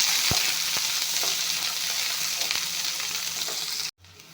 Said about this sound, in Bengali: এয়া আদা জলকীয়াখিনি দি দিছোঁ এতিয়া এইখিনি অলপমান ভাজি ল'ম